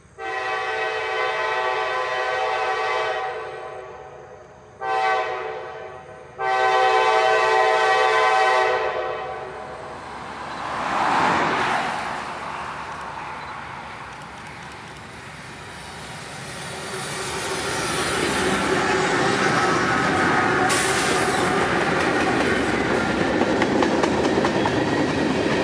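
Southern Railway heritage-painted locomotives 250 and 2026, honoring America's 250th anniversary, pass at Ringgold: a loud, long horn blast broken by two short gaps, then a swelling rumble and clatter of the passing train, with no talk.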